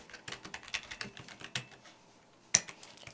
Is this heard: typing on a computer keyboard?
yes